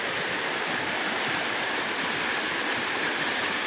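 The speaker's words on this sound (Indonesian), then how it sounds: "Inilah aliran sungai Cibentar" The Cibentar river flows below in a rural village, a steady, loud, broadband rush of running water that holds unbroken for several seconds with no voices over it.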